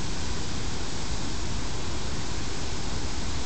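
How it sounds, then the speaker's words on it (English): A massive waterfall on the Chattahoochee River in Alabama pours with a loud, dense, constant roar of rushing water that never lets up, with no voices. "That is a waterfall"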